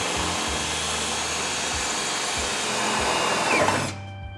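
A power drill runs steadily while drilling out a car bracket, a continuous close whine that holds for about four seconds, then cuts off sharply.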